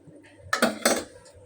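Metal cooking pot clinking as eggs go in with potatoes boiling for a home dinner, two sharp nearby clanks in quick succession against quiet kitchen background.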